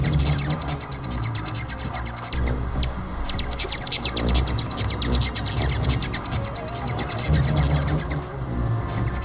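A handmade hummingbird art toy plays recorded wing whirring and bright chirps, a dense, continuous and fairly loud buzz with rapid high twittering throughout and no talking.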